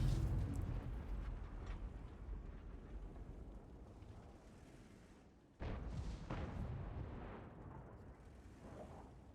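A heavy booming cannon shot from the Skoda T 56 tank's two-shell autoloader gun in a video game, followed about five seconds later by a second blast, both muffled over a low rumbling background.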